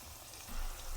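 An alcapurria, a Puerto Rican fritter, frying in oil makes a quiet, steady bubbling sizzle like light rain, with a soft low swell partway through and no one talking.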